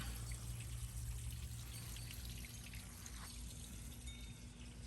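Clean water pours steadily to refill a freshly drained backyard garden container in Florida, a continuous close splashing rush that holds for the whole stretch with no talking.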